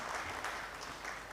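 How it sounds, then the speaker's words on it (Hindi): Applause from an audience at a tribute event at the Arts Council of Pakistan in Karachi, a dense, steady wash of clapping lasting the whole moment with no talk over it. "बहुत सारी तालियां होनी चाहिए अहमद"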